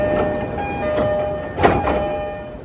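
A Joban Line train interior rumbles steadily, with clacking rail noise and a few sharp knocks and squeaks from the carriage.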